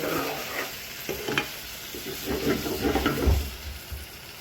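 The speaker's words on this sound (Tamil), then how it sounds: "மெல்லவா வறுத்து விட்ட மசாலா" Masala slowly frying in a pan, a soft continuous sizzle broken by scraping stirs of a spoon against the pan; close and fairly quiet, with no talking.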